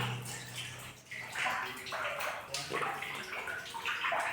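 Water gushes from a borewell into a well in a steady rushing stream, splashing and gurgling continuously at close range.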